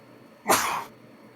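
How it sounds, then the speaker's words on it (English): A single sharp sneeze from someone nearby during a tabletop role-playing game session, a short burst standing alone against quiet room tone. "Someone sneezed."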